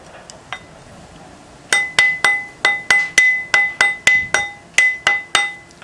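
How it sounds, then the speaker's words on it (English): Hammer strikes on a twisted wire ring fitted over a metal ring mandrel: after a lone tap, about fourteen sharp, ringing metallic blows land in a steady rhythm, loud and close, with no talking. "and hammer it, and it'll line this up."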